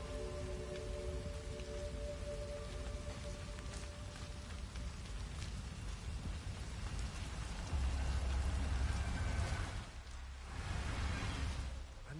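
Steady rain pours in the video game Hitman 3, a dense, continuous hiss that stays loud throughout, with a low rumbling swell in the latter half that resembles distant thunder.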